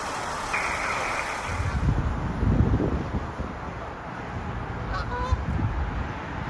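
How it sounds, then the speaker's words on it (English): Geese honk in scattered calls on a wet, rainy day, mixed with passing car and engine noise that swells and fades. "So many geese today."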